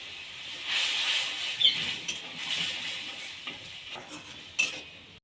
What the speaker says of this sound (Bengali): অল্প একটু জল দিয়ে দেব, দিয়ে ভালো করে কষিয়ে নেব।